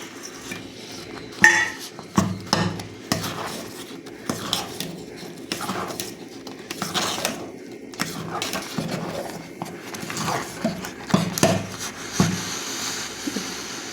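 A ladle stirs jaggery into thick fenugreek kali in a metal pot, giving irregular clinks and scrapes of spoon against the pot spread over several seconds, close and moderately loud.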